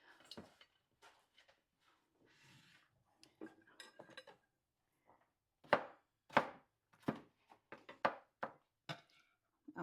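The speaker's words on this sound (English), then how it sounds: "I'm cutting up some garlic." A knife chops garlic on a board in a kitchen while cooking a Jamaican salt fish takari, a run of sharp, close knocks that start sparse and quicken into a steady rhythm, with no talk over them.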